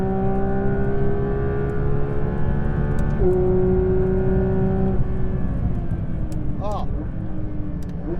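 A Porsche 911 GT3 RS 992 accelerates hard out of a corner, its engine note loud, close and rising steadily before shifting up, as a voice speaks briefly over it.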